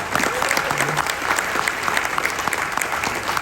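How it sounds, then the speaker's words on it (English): A conference audience of internal auditors at an annual regional gathering in the UAE claps, a continuous crisp patter of many hands that stays steady and fairly close throughout. "Give yourselves a round of applause for being unstoppable."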